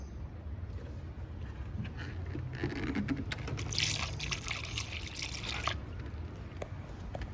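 Coolant in a 50-50 mix poured into the cooling system of a 2003 Chevy Trailblazer, a steady close liquid gurgle and trickle running for several seconds, swelling louder in the middle, with no talk.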